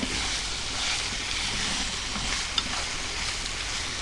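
Sagamiya fried tofu stir-fries with salt in a hot pan, giving a continuous close sizzle with soft scraping and stirring, steady throughout.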